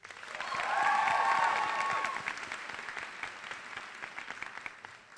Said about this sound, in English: a round of applause is certainly in order for our IB Diploma Program Coordinator